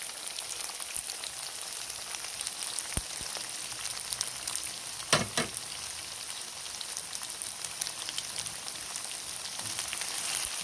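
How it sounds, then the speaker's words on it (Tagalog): Onions sizzle steadily in a non-stick pan alongside tofu, a close, even crackling hiss with a brief sharper spatter midway and no talking. "Lagay na natin yung sibuyas."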